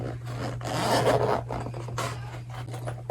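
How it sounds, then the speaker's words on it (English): A zipper on a black Demonia Camel-311 platform boot being unzipped, a continuous close rasping slide lasting about three seconds with a steady low hum underneath. "I guess I can unzip it because they look the same"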